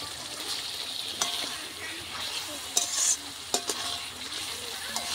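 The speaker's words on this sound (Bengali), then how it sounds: "এরপর এর মধ্যে দিয়ে দিচ্ছি ডুমো করে কেটে রাখা টমেটো" Diced tomatoes frying in spice paste for a Bengali fish curry: a steady broad sizzle with a few sharp spoon scrapes and clinks of stirring, close and moderately loud, no voices.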